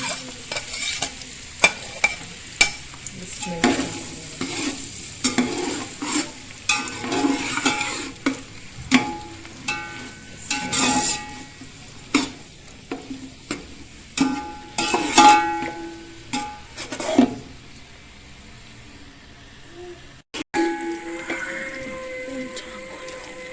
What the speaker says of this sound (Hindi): अब हम इसमें अपने ऑनियंस ऐड करेंगे और इनको फ्राई करेंगे।